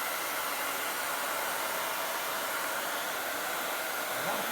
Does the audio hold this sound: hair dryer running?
yes